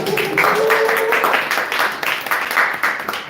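An audience at a live acting talk show claps to welcome actor and professor Kim Jong-gu, a lively, fairly close burst of many hands with uneven surges, joined briefly by a voice or tone early on.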